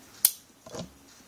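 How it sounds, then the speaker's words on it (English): Scissors snip through string for a kandi bead craft, giving one sharp metallic click followed by a softer second snip, close and alone. "Cut my string again."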